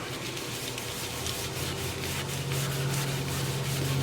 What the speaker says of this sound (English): I was sanding along,